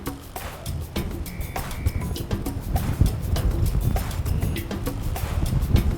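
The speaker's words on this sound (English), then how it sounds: "Gosh, this wind is heavy." Heavy, gusty wind buffets the microphone in a continuous roar atop Fort Duvernette, St Vincent and the Grenadines, with low rumbling surges and occasional rustling, no speech.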